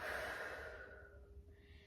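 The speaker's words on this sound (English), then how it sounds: "So you're going to inhale gently and exhale." Slow, close breathing: a soft inhale and exhale through the nose and mouth, quiet and steady with no talking.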